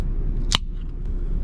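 A can of pineapple sparkling drink cracks open with one short, sharp snap over a steady low background rumble.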